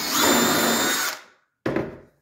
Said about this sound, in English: put a screw into the stud